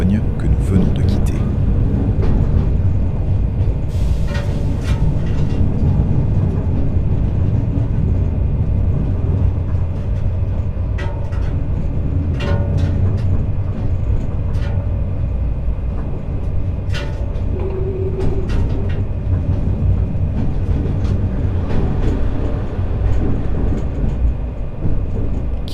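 Steady, loud rail rumble from a train cab riding down an 8-per-1000 grade through the industrial zone of Amiens, passing under the Amiens-Boulogne line, with a voice narrating over the continuous running noise.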